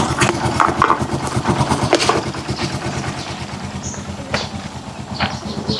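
A Rusi Chariot 175 motorcycle engine restarts and then settles into a rough, pulsing idle close by, with a few sharp clicks and knocks early on.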